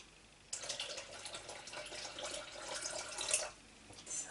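Broth poured into a Thermomix to top it up to one liter: a steady close splashing stream of liquid lasting about three seconds, then stopping.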